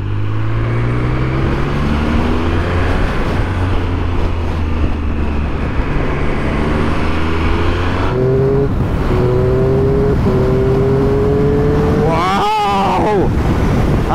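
A Triumph Speed Triple RS motorcycle switched to sport mode accelerates hard through several gears, its engine note climbing and stepping up with each shift, under heavy wind noise from riding, ending in a sharp rev.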